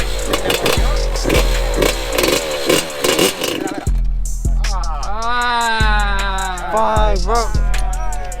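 A Yamaha YZ85 two-stroke dirt bike engine is revved hard up close, sharp buzzing blips rising and falling in pitch with loud crackling bursts, then a lower idle between revs.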